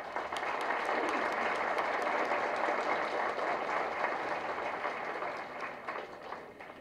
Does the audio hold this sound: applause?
yes